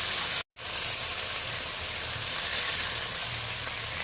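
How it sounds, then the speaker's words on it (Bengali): Ginger paste stirred and fried in a pan for a spicy bhetki fish curry, a steady broadband sizzle after a brief cutout near the start, continuous and close. "আদা বাটাটা ভালো করে নাড়াচাড়া করে নেব।"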